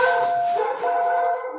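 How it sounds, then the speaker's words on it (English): A dog gives a sustained, wavering high-pitched cry, closer to a whine or howl than sharp barks, lasting the whole moment with a short dip midway, close and fairly loud with no talk over it. "There's my dog."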